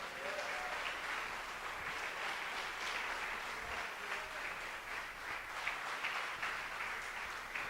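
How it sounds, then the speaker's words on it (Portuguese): A church congregation claps steadily in a sustained, dense round of applause that fills the room at an even level from start to finish, with no speech. "Uma salva de palmas bem forte para o Senhor."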